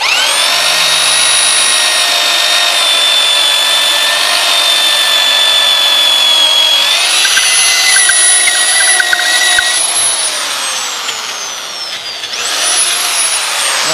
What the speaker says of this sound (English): we're just going to keep drilling